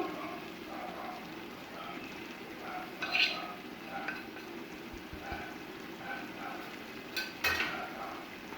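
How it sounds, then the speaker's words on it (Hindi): Potatoes and peas fry with spices in a pot for aloo matar pulao, a soft steady sizzle broken by several sharp clinks of a spoon scraping and knocking against the metal as the mixture is stirred. "इनको अच्छी तरह से मिक्स करेंगे और मज़ीद 2 से 3 मिनट के लिए इनको भून लेंगे"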